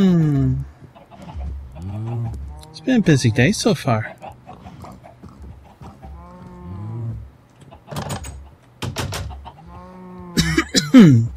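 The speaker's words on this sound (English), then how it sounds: "the chickens can have a bath in there" Minecraft chickens cluck in repeated short bursts close by, interleaved with someone talking over the blocky farmyard scene.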